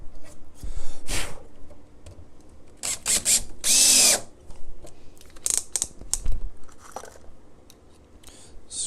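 A power drill drives screws into a wooden guitar mold for laminated sides, with several short whirring bursts and one longer sustained run up close, between quieter handling knocks.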